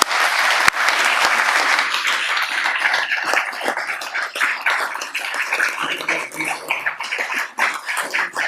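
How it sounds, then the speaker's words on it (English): Sustained applause from a crowd at a council meeting's awards presentation fills the room, steady and dense throughout, with a couple of sharper claps standing out near the start. "Please give him a round of applause."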